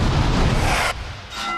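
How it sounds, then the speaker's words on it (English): Dynamite detonates in a mine during a controlled blast test, a deep, heavy boom with rumbling low-end force that cuts off abruptly and leaves a thinner residual rumble. "Explosive experts detonate the dynamite."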